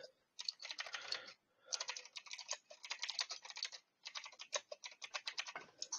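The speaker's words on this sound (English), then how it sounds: "Somebody's typing." Rapid keystrokes clatter on a computer keyboard in bursts of steady typing, separated by brief pauses, quiet and close with no voices over it.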